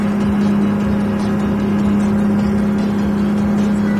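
Engine drone of a Mitsubishi Fuso Fighter truck in Euro Truck Simulator, a steady loud hum with a strong low tone holding constant while accelerating at highway speed, with no talk.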